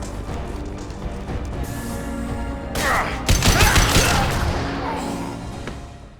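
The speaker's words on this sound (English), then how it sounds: "Taking heavy fire!" Heavy gunfire in the video game Mass Effect 2 builds into a loud, dense barrage of shots and impacts, swelling midway and then trailing off under continuous background noise.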